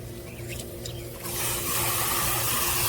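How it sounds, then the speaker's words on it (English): A water hose sprays out a cordless pool vacuum cleaner, a steady close hiss of water that starts softer and grows fuller and louder partway through, running continuously without talk. "You just spray it out with your water hose."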